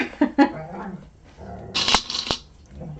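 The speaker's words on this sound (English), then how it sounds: "He's the funniest little puppy." A big 60-pound puppy plays with a cat just outside a door, giving a few sharp scuffling thumps and a brief bark-like burst, moderately close, with quiet gaps between.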